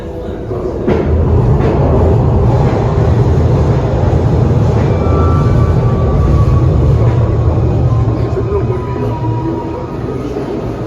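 An old Broad Street Line subway train pulls into Philadelphia's City Hall station, its loud, continuous rumble of wheels on rail running throughout with faint metallic squeals rising over the roar.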